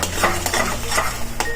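Flour for sheera roasting in a kadai while it is stirred without pause, a loud close scraping and sizzling with repeated metallic strokes of the spoon against the pan.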